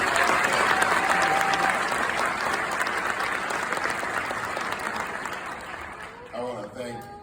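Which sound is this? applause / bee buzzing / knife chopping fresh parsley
applause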